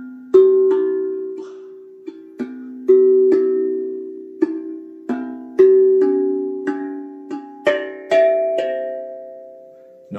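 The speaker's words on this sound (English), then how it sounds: "And when you hit those tongues, it sounds like this." A metal tongue drum is struck on its tongues, producing bright ringing bell-like notes that decay slowly, a melody of a dozen or so hits at a gentle uneven pace, close and alone.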